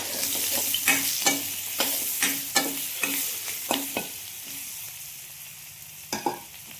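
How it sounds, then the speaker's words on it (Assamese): Potatoes fry with onion and turmeric in a hot pan, sizzling while a utensil scrapes and stirs in repeated, regular strokes close by, with no talking. "পিঁয়াজ ভাজিছোঁ, লগতে মই হালধি অকণমান দিলোঁ, আলু ভাজি আছোঁ"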